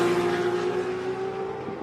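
A Supra drag car runs down the strip at Warwick Dragway in Australia, its engine a steady, strong tone holding at a high pitch over roughly two seconds.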